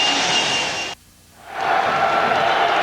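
A stadium crowd cheers at a 2000 Washington at Colorado college football game, a loud broad roar that drops away for about half a second before swelling back to full strength.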